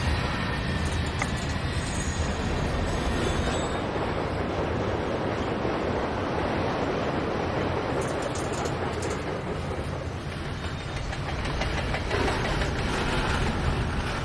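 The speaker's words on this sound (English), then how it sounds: "I like how TS2016 put the actual rail sounds in here." Rail noise in Train Simulator 2016: a continuous loud rumbling roar of a train running fast over track, steady throughout with no talk.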